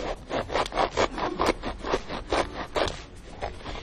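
Serrated knife sawing through food in a kitchen, a steady run of rough back-and-forth rasping strokes, close and fairly loud, with no talk.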